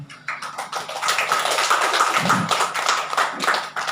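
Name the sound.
audience applause for the three speakers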